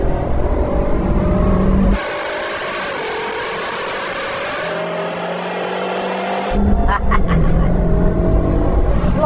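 A Ford F-150 VelociRaptor 6x6 and a Hennessey Venom 775 accelerate in a rolling drag race. Loud engine roar builds, drops briefly into a quieter, strained drone while the transmission kicks down, then surges loudly again, heard from inside a cabin.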